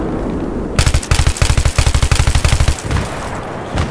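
Automatic gunfire in the video game Battlefield 3 on the Sharqi Peninsula map: a loud, close, rapid burst of shots rattling steadily for about two seconds, then a brief trailing echo.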